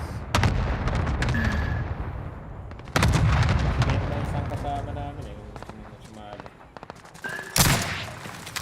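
Gunfire in a first-person shooter video game: several sharp, loud shots and bursts crack out at irregular intervals amid game sound effects, while players talk over the action.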